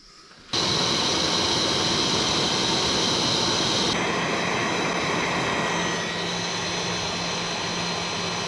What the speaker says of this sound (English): I'll slip this over there and put the heat gun to it.